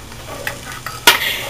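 Chopped onion hits a hot pan for adobo and is stirred in, with a soft sizzle under light scraping that swells into a louder hiss near the end.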